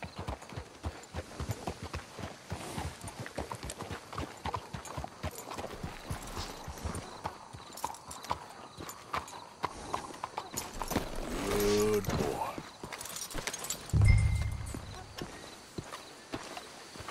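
Steady hoof clip-clop from horses walking in the video game Red Dead Redemption 2, a regular clatter throughout, with a brief louder thump and rumble near the end.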